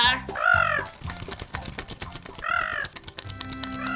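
A cartoon crow in an animated fable caws twice, with a few seconds between the harsh calls, over a busy musical background.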